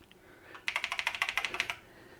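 Keys are pressed on an Acorn BBC Master 128 computer keyboard, about a dozen crisp, evenly spaced clicks in a quick close-up run.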